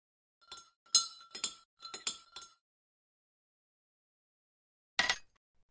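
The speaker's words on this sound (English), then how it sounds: "Use the glass rod to stir the solution." Glass rod stirring a solution in a beaker in a PC chemistry puzzle game: four quick, bright clinks in a row, then a pause and one final clink, crisp and isolated against silence.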